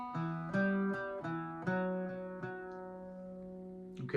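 An Irish bouzouki plays a slow melodic line from the tune The Butterfly, with about seven clear plucked notes ringing over a sustained drone, close and fairly soft, with no voices.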